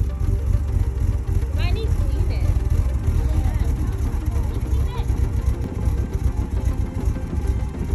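A Rover SD1 2600S engine runs at a steady idle after being started for the first time in sixteen years, a continuous low rumble that stays constant throughout, with people talking in the background.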